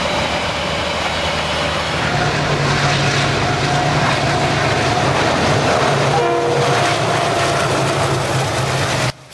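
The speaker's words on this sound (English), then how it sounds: "The train now climbs the 1 in 60 grade from Jackson's to Otira" The TranzAlpine Express climbs a 1 in 60 grade near Otira, its engine roaring loudly and continuously with rumbling wheels, while the horn sounds a sustained blast partway through.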